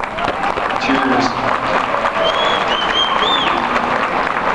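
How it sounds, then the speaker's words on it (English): Audience applause fills a school ceremony honoring middle school students for perfect attendance, a steady, dense wash of clapping from a crowd, with whistles and voices mixed in throughout. "Let's give them a round of applause."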